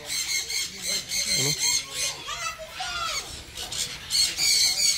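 Macaws and sun conures at a bird farm in Thailand squawk and shriek in loud, overlapping bursts, harsh calls coming close and repeatedly, with a person speaking amid the noise.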